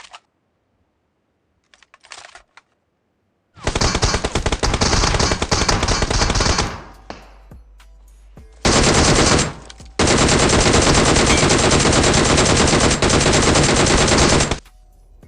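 Rapid automatic gunfire in the mobile battle royale game BGMI, loud sustained bursts separated by short gaps, with a few faint clicks and quiet moments before the shooting starts.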